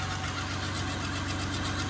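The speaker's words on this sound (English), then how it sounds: "Got some kind of belt whine, bearing whine." A car engine idling with a belt and bearing whine, a steady, close drone with a high whining tone over a low rumble.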